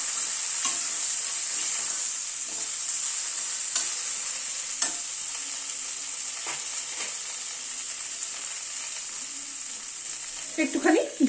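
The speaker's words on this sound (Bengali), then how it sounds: "বেগুন আর কুমড়োকেও একটু ভেজে নেব।" Eggplant and pumpkin frying in a pan together with potato and cauliflower, a steady close sizzle with occasional stirring clinks and scrapes, ending in a short burst of louder stirring.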